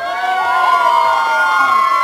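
A crowd at a Diwali stage show cheers and shouts loudly and continuously, with high whoops and whistles over a sustained roar.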